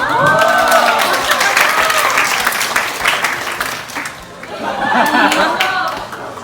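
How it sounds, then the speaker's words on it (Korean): A church congregation claps loudly and steadily throughout, with a voice speaking over the applause and a few chuckles mixed in. "네, 우리 박수로."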